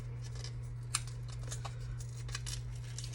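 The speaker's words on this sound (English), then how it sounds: "It's actually stapled. So let's undo it. I guess I have to rip it." A stapled paper giveaway package from a stamp and scrapbook expo is ripped and pulled open at close range, giving a series of brief scratchy tearing and rustling bursts over a steady low electrical hum.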